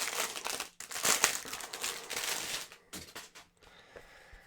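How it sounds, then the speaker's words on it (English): Notepad pulled out of crinkly plastic wrapping, a run of loud, close crinkling and rustling with brief pauses, no talk. "Let me take it out of the plastic."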